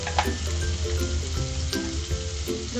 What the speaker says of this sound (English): I'm going to add the onions, the chopped onions.